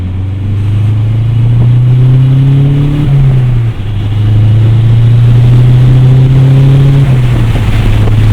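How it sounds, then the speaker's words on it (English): A turbocharged 2008 Chevrolet Cobalt SS engine accelerates with the windows down on a windy day. Its loud, steady drone climbs in pitch, with a brief dip partway through as if between gears. No one speaks. "Put the windows down now, so this way we can maybe hear the engine a little bit better."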